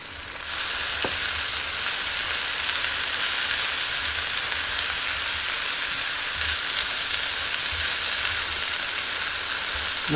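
Mixed vegetables sizzle and fry steadily in a hot pan as they are stirred, a continuous bright crackle with no talking, lasting the whole stretch.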